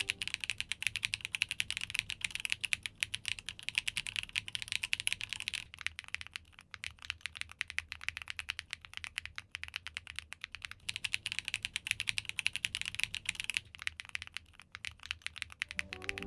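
Steady, rapid typing on a Chilkey ND75 mechanical keyboard, dense clacky keystrokes continuing throughout with brief lulls, close and clear.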